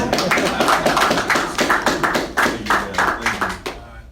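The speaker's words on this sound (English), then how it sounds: "Can we at least clap?" A small crowd claps in a loose, uneven rhythm of sharp close taps over about four seconds, after a call for applause for retiring Kansas City Royals player Lorenzo Cain.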